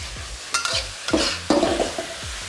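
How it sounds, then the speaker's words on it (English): Hunan-style chilli beef with celery is stir-fried in a wok, with a rhythmic series of close scraping, tossing strokes over a continuous sizzle, about four sharp bursts in quick succession. "And there you have your Hunan Style Chilli Beef stir fry."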